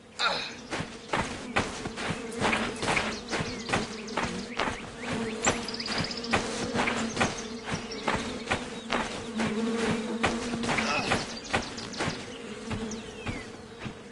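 Swarming bees in the video game The Vale: Shadow of the Crown give a steady close buzz with irregular footsteps and rustling throughout, loud and continuous.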